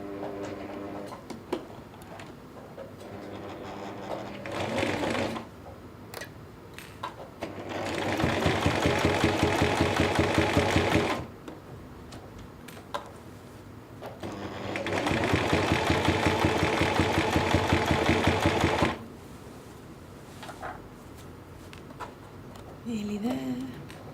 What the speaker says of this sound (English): So now I'm ready to sew my straight seam around the edge to hold my bias binding down.